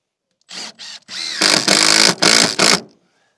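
A cordless drill or screwdriver drives screws into a wooden board beside a string line, short bursts of the motor revving up then several longer whirring pulls, loud and close.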